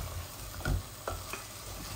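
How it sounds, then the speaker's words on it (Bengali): Cauliflower fries in a pan with a soft, steady sizzle and a couple of faint stirring knocks. "এই যে আমার এই কলিফ্লাওয়ার গুলা, এগুলাতে এত ইয়ে থাকে না, তবু আমি আর একটু ভালো করে ভাজা ভাজা করে ফেলি"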